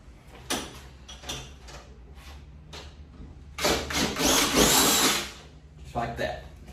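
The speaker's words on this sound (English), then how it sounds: "run that drill bit through there and kind of square it up" A power drill reams a bolt hole on a Ford Expedition's rear end, whirring in a few short bursts with one longer run in the middle, close by, with brief pauses between.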